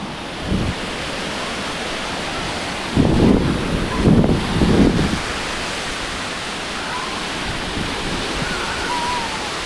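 Sea waves and wind at Puri beach make a broad, steady roaring wash, with a few louder surges of surf breaking partway through.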